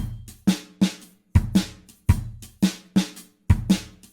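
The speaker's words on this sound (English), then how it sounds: "And our shaker sounds like this." A shaker plays a steady rhythmic pattern, crisp swishing strokes landing roughly every half second over a soft low drum bed, close and clear with no voices.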